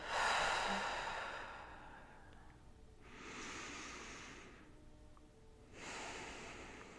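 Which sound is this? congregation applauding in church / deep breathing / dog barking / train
deep breathing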